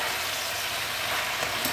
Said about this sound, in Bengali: এবার আবার ভালো করে একটু নাড়িয়ে দেবো।